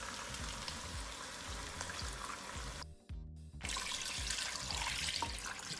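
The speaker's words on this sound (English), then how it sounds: "we are gonna go in with our broth" Broth pouring into a pot of braised beef short ribs with vegetables, a continuous close splashing gush that briefly drops away, then resumes louder.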